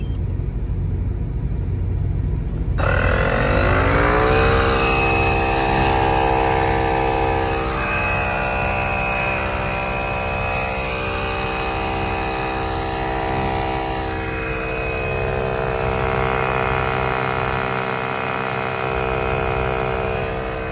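A Gooloo AP150 Pro portable air inflator, fitted with a plain air nozzle for blowing up a beach ball, starts with a motor spin-up and then runs as a loud, steady whine and hum throughout, with no talking.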